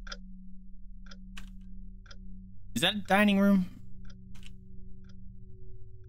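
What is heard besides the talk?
grandfather clock ticking in the video game Rakuen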